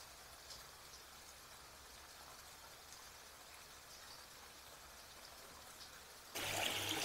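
Snowmelt running down from the mountains trickles steadily in a cold May camp in Prince William Sound, Alaska, faint and continuous at a distance before a louder, closer gush of water swells in at the very end.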